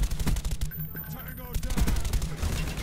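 Rapid bursts of automatic gunfire in Call of Duty: Black Ops, loud and dense, with sharp repeated cracks layered over game noise and a brief higher-pitched effect in the middle.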